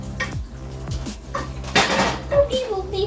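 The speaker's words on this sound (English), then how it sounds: "Put the lid on." A lid clatters onto a pan while an upside-down egg sandwich cooks, a sharp metallic clank partway through amid kitchen clinks and light movement, with a voice speaking nearby.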